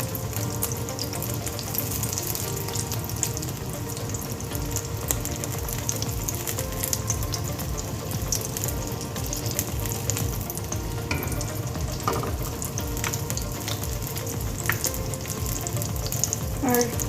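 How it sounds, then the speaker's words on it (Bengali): Pieces of fish fry in oil in a pan, a steady close crackling sizzle with dense popping that runs evenly throughout with no talking. "এখন আমি এটাকে ভেজে নিচ্ছি।"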